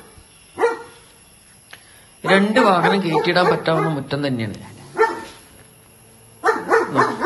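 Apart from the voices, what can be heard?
dog barking from its kennel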